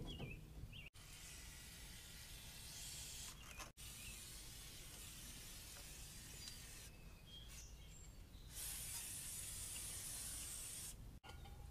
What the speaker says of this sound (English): I just lightly spray it after I put it on